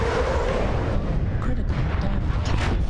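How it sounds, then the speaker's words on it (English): Airstrike explosions in a video game, a dense rumbling roar of blasts and gunfire, sustained and loud, with voice chatter. "Put an airstrike on the corner."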